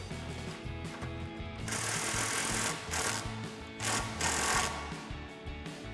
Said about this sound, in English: Now we're going to tighten up the top using a 19mm swivel socket and a 19mm wrench.